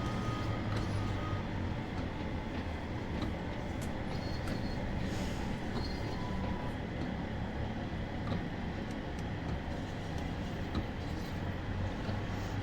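A dense, steady rumbling roar of a train in a video game rolls on continuously, with faint clicks and rattles over the top and no pauses.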